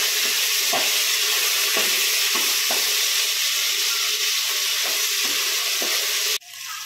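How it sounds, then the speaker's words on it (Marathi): Food for matar pulao fries in a pan with a steady loud sizzle, broken by periodic stirring scrapes, until a sudden cut near the end. "त्याला चांगलं फ्राय करून घ्यायचं आहे।"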